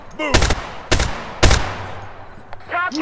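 Gunfire in the tactical shooter video game Zero Hour: three loud, sharp shots spaced about half a second apart, close and echoing, with shouted voices heard around them.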